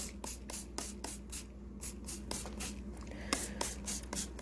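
Short hissing bursts of a spray bottle of Dixie Belle green patina spray repeat in a quick irregular rhythm, close and fairly quiet, with soft handling noises between.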